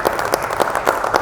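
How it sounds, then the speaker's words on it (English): Steady applause from a crowd, many hands clapping at once, fairly loud and continuous. "Round of applause, please."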